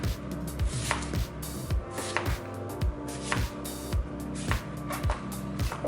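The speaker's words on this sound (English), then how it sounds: "Slice down the apple, staying far away from the core." Repeated knife strokes slicing down through a whole unpeeled apple on a cutting board, each cut landing as a sharp thud at an irregular pace, close and fairly loud with no talking.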